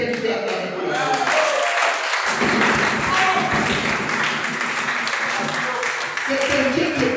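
A church congregation applauding at a sermon: dense, sustained clapping and cheering that swells and holds, with a preacher's voice speaking over it.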